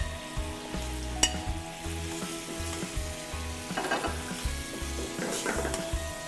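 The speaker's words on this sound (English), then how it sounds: "We'll cook that, bring it up to a simmer." Veal in a Marsala sauce with veal stock bubbles and sizzles in a pan, a continuous crackling hiss with a few metallic clinks and low rhythmic thumps from the stove.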